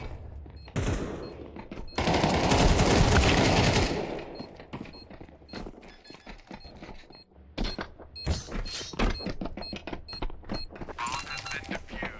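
Rapid gunfire in Counter-Strike 2, with a dense sustained burst of automatic fire followed by scattered sharp shots and short rattling volleys, loud and close.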